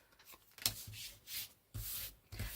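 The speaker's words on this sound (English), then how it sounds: "this is an old card that acts like a scraper" An old plastic card works as a scraper, rubbing in several short, soft, scratchy strokes across a pink Christmas journal cover to smooth it and press the edges down. The strokes are close and fairly quiet.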